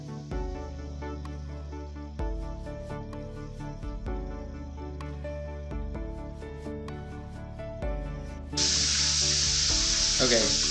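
Chicken livers hit hot oil and set off a loud, steady sizzle that bursts up over the last couple of seconds, mostly masked by background music until then.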